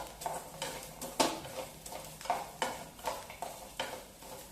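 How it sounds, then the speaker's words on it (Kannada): Chutney ingredients roast in a pan over a low flame, stirred with a spatula that scrapes in regular strokes about every half second, over a soft, faint sizzle. "ಉರಿ ಸಣ್ಣಿಟ್ಟ ಹುರ್ಕೋಬೇಕ್ರಿ, ಯಾಕಂದ್ರೆ ಜೋರಿಟ್ಟು ಅಂದ್ರೆ ಬರಾಬರ ಹೊತ್ತಿ ಬಿಡ್ತಾವು."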